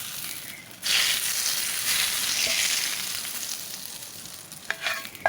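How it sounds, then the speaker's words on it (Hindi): Hot oil tadka of cumin seeds and whole round red chilies poured over brinjal in curd, a sudden loud sizzle that gradually fades, with a few clinks of the pan near the end. "तो यहाँ पे मैंने ज़ीरा और गोल लाल मिर्च ऑयल के अंदर फ्राई कर ली है,"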